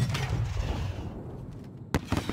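A grenade explosion in Call of Duty: Modern Warfare (2019) inside an embassy setting, with a loud low blast and rumbling debris that fades, followed by a sharp, sudden bang and a few smaller pops near the end.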